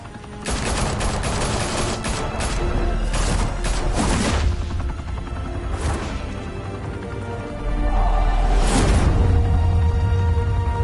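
Heavy gunfire from several weapons in the video game Batman: The Telltale Series, with dense bursts and booming shots rattling over nearly eleven seconds, loud and sustained, with a harder volley near the end.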